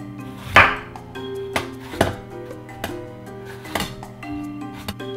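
A knife trims a prickly eggplant on a cutting board, making several sharp separate cuts and knocks spaced a second or so apart, with a steady tonal hum or music underneath.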